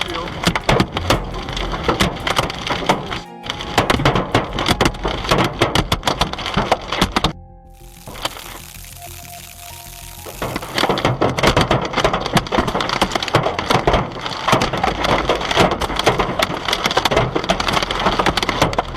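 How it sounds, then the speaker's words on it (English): Hailstones pound a car roof and windshield in a rapid, loud, irregular barrage of hard cracking impacts, close by, easing into a quieter stretch with steady tones midway before the heavy drumming resumes. "Hearing hail pound on a car roof is one of the most helpless feelings a driver can experience."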